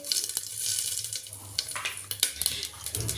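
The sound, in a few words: panch phoron spices sizzling in hot oil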